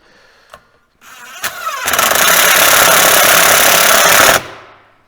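Clutch bolts are run in with a rattling power tool during a Burandt clutch kit install: a couple of brief taps, then a steady, loud, buzzing hammer-rattle lasting about two and a half seconds before it cuts off.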